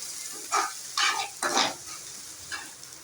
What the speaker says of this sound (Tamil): கொஞ்சம் கருவேப்பிலை நல்லா வதக்கிக்கலாம்